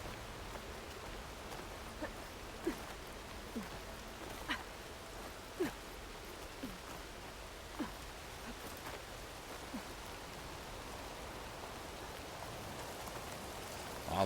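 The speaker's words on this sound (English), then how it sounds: "that rainstorm came out of nowhere and then turned into a snowstorm" Rain falls steadily in a Horizon Forbidden West rainstorm, a soft constant hiss of drops with occasional sharper patters and splashes, fairly quiet and unbroken for the whole stretch.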